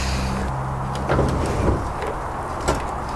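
A roll-up rear door on a Ford E350 box van rattles and slides along its track, a steady metallic rumble with a few clunks, loud and close.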